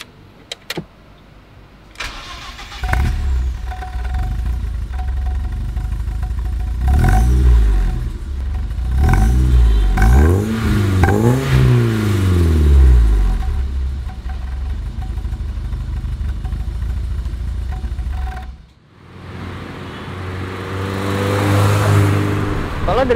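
A BMW E30 with a modified, slightly louder exhaust cranks and starts, then revs several times in rising and falling swells before settling into a steady idle. The car is close and loud, and a short pause comes before another rev.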